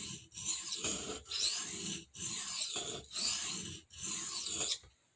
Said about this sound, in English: I'm going to raise the burr again.